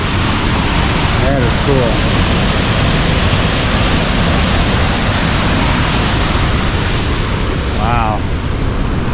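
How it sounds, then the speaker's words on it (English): Steady, loud broadband rush of Sol Duc Falls in Olympic National Park fills the whole clip, with a voice speaking briefly over it. "Not gonna find many waterfalls like that."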